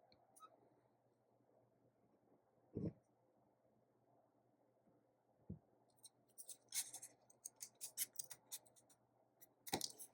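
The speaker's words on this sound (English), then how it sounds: "I need to cut a bit of it off." Scissors cut through a piece of paper for a collage, giving a few sharp snips and crisp rustling clicks close by in an otherwise quiet room, with no talking.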